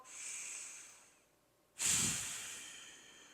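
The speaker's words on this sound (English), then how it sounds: "take a nice little cleansing breath in and out" A slow cleansing breath during a core exercise session: a soft, airy inhale, a short pause, then a stronger rushing exhale that fades out, close and quiet with no talk.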